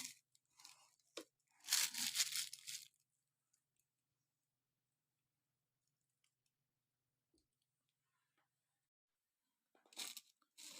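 Plastic bag handled in a kitchen while preparing quick crunchy pickled cucumbers: a few faint crinkles, then a brief louder rustle, long near-silence, and another short rustle at the end.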